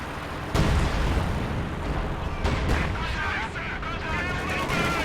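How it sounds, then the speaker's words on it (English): A Panther tank in a World War II strategy game sets off an anti-tank mine, giving a sudden booming blast followed by a dense rumble of continuing gunfire and explosions. Commentary runs over the battle throughout. "Oh no! Another anti-tank mine gets hit by that Panther!"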